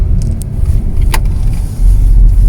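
Inside a car, a low engine rumble and road noise run steadily, with small clicks and rattles near the cabin and a heavier surge toward the end.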